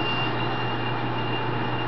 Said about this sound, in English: alarm as it goes down, just to warn the operator that the lift is closing